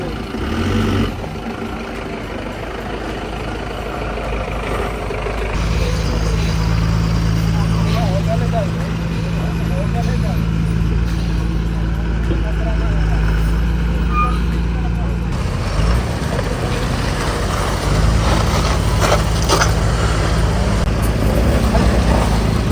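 Trucks and cars grind along a mountain road in Nepal toward Kathmandu, with a steady low engine drone and traffic rumble that swells in the middle. Someone talks continuously over the vehicle noise.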